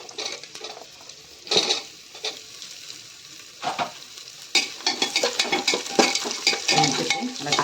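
Onion, carrot and beans stir-fried in oil for broccoli pulao: loud close sizzling with repeated clattering spatula scrapes against the pan, growing busier toward the end.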